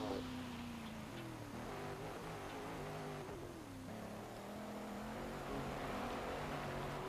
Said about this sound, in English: I don't typically like Camaros, but holy crap, that engine is hot.